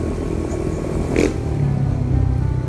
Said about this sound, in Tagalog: Tahimik ang motor.